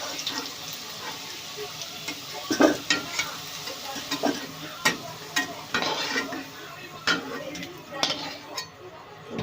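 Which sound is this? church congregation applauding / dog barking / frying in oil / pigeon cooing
frying in oil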